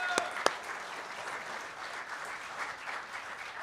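Steady applause from a sizable crowd, with a couple of sharp claps standing out near the start, then an even patter of clapping.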